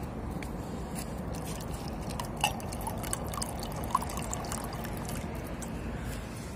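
Water pours into a glass as a steady, soft trickle with a few brief drips and splashes standing out near the end, no voices present.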